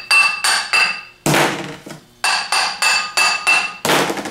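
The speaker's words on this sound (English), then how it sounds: "put the armature in a vise, and tap it on" An electric motor armature held in a vise is tapped into its bushing, giving sharp metallic hammer taps in a loose irregular rhythm: several quick strikes, a pause, then a louder ringing blow followed by more taps, close and alone.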